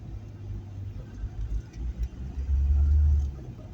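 A rough, low Volkswagen T4 van engine idles and rumbles unevenly, with a deeper throaty surge near the end, running with the exhaust flexi hose broken off, tractor-like.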